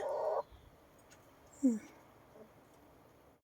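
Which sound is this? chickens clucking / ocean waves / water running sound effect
chickens clucking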